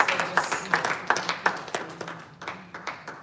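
A conference audience at a business event in a hotel claps in a brisk, uneven patter. The sharp hand claps repeat steadily for a few seconds at moderate loudness, then thin out toward the end.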